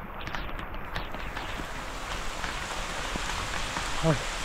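Steady rain falls in a wet outdoor setting on a hike to Supto Dhara and Sohosrodhara waterfalls near Sitakunda, a continuous soft patter and hiss with no pauses and no talking.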